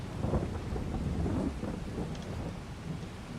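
Steady rain hisses in the Farming Simulator 22 game while low thunder rumbles continuously underneath, with no voices.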